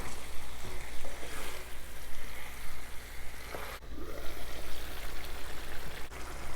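Chicken coated in masala sizzles steadily in a pan while being stirred, with a continuous dense frying crackle and occasional louder scrapes from the stirring, with no voices.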